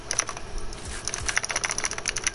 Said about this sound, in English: I'm sorry if my keys are a bit loud